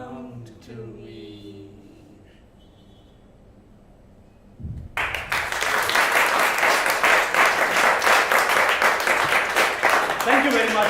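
After a quiet spell with a voice, a playback theatre audience at a coffee harvest festival bursts into loud, sustained applause that carries steadily to the end.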